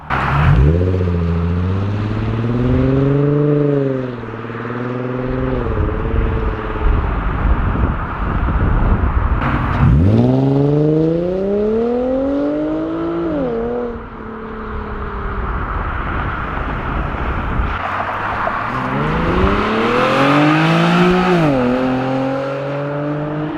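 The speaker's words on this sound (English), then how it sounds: "That is the arc grip exhaust on the G35 Sedan." An Infiniti G35 sedan with an Ark Grip cat-back exhaust revs hard and roars past several times, the engine note climbing and falling as it passes loudly, with wind noise between passes.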